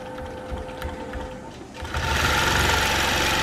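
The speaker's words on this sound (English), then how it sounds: "And it's stitching around." Longarm quilting sewing machine stitching through a T-shirt quilt, a loud close mechanical whirr of rapid needle strokes that starts steady and moderate, then picks up speed and grows louder and denser toward the end.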